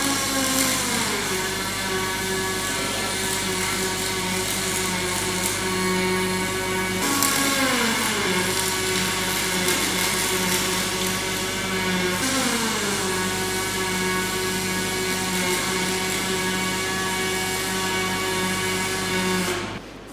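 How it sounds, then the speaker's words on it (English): A steady, loud mechanical drone runs through while welding long beads on a steel off-road boat trailer, with a broad hiss on top and the pitch sagging and recovering three times. No one talks. "Now she's going to do a couple of long welds."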